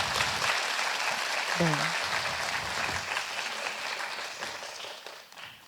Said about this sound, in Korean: 큰 박수로 한번 환영해 주실까요?